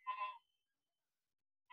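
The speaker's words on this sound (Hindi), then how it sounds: "बहुत प्यारे लगे मुझे ये बकरा" A single short bleat from a male goat at a livestock sale in Aurangabad, loud and close, followed by silence and the start of another call at the very end.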